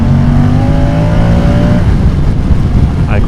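Moto Guzzi Stelvio motorcycle engine, a 2024 model with shaft drive, revving up loud and close, its rising drone climbing in pitch through the first half before giving way to a rougher, steady roar.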